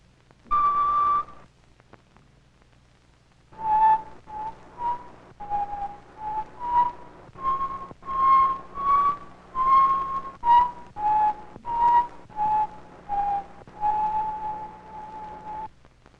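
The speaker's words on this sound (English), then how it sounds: "see what you can do with a row of test tubes filled with different amounts of water" Breathy, hollow tones blown across a row of test tubes filled with different amounts of water: one long note, then a steady run of short notes stepping up and down in pitch.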